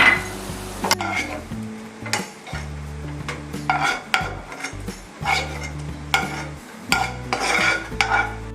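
A spoon scrapes cooked onion, tomato and cashew masala out of a pan into a bowl after the gas is switched off, giving repeated close scrapes and metallic clinks with a faint lingering sizzle.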